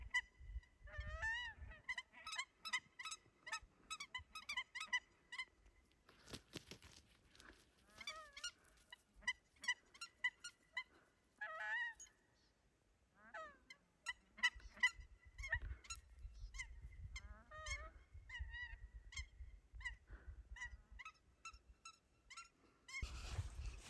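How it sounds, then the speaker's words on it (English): Nene geese honk and call repeatedly in loud, overlapping bursts, several birds close by on a misty morning at Haleakalā, with brief pauses and some low rumbling noise underneath. "Woke up to the sounds of the nene geese barking"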